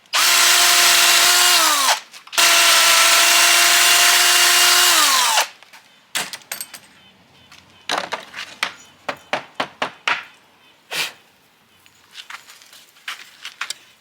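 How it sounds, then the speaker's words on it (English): Power drill with a depth collar boring into a van's frame during a conversion build: two long, loud whining runs broken by a short pause, then a string of sharp knocks and short bursts of rattling. "So let's get drilling."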